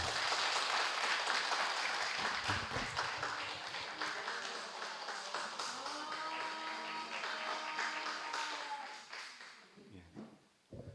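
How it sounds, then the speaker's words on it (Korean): A crowd claps steadily and loudly for several seconds, the applause slowly thinning out, with a voice speaking partway through. "박수 부탁드립니다."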